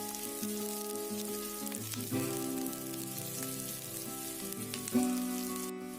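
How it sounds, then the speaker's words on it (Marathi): Cashews frying in oil with ginger and garlic for a restaurant-style paneer masala gravy, a steady close sizzle that runs throughout with tonal background music over it. "यामध्ये काजू ॲड करायचे आहेत आणि काजूला छान क्रिस्पी करून घ्यायचे आहे"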